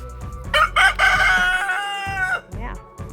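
A big rooster on a Texas farm crows loudly and close by, one long drawn-out cock-a-doodle-doo with a strained rising middle, followed by a few short clucks.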